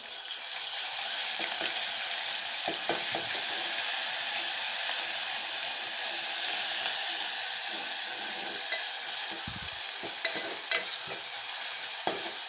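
Onion, curry leaves and ginger garlic fry in a pan with a constant loud hissing sizzle, broken by occasional scraping stirs and a few sharper clinks near the end, with no voices.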